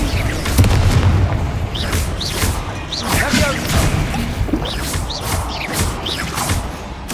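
In Hogwarts Legacy on PS5, the Incendio fire spell is cast amid a run of loud, repeated booming bursts and crackling blasts that continue throughout the stretch of combat.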